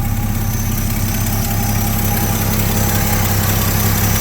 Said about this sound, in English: The old Chevy Custom 10. Back 40 Bandit got it running.